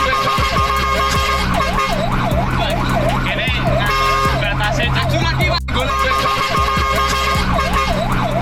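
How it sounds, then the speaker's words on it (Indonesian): An Indonesian fire truck's siren wails loudly and close by in rapid rising-and-falling cycles over a thick bed of traffic and engine noise, dropping out for a moment before it resumes. "suara sirine cukup keras agar jadi peringatan pengendara lain untuk segera menepikan kendaraannya saat mobil damkar lewat"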